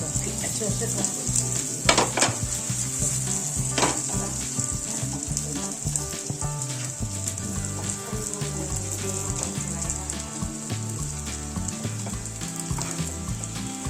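A ghee and cumin tempering sizzles in a pan, a bright continuous crackle with scattered pops and light utensil clicks, close and moderately loud.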